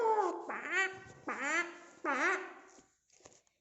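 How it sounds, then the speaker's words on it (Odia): A swan's call, given as three loud, rising honking cries in quick succession, each drawn out and nasal, followed by a faint short trailing note, with no other sound around them. "ହଂସ"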